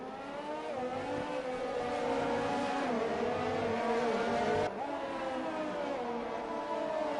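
Formula 1 cars in an online F1 esports league race at the Brazilian Grand Prix, engines whining steadily with harmonic revs that shift as they run side by side, loud and continuous without a break.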